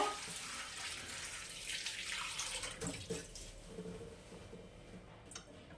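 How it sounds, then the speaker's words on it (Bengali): Flattened rice (poha) is washed in a bowl of water at a sink, giving a soft continuous splashing and trickling that gradually thins out, fairly faint and close. "এটাকে আমি একটু জলে ধুয়ে নেব"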